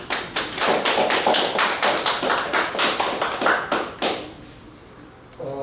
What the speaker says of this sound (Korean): 먼저 심성보 상임대표님 모시는 힘찬 박수를 한번 보내주시기 바랍니다.